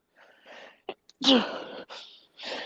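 A single short sneeze bursts out from a person during a podcast conversation, followed at once by people talking.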